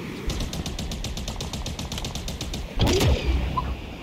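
Rapid automatic gunfire rattles at a steady rhythm for a couple of seconds in Halo Infinite, then a louder, heavier impact and burst hits near the player.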